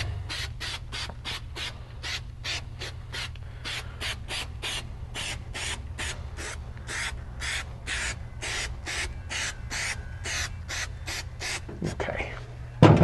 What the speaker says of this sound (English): and just start spraying up